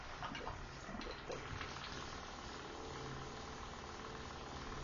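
A hot tub pump primes while moving water out of a bucket, giving a steady, dense mechanical whir mixed with gurgling water and air, holding at an even level throughout.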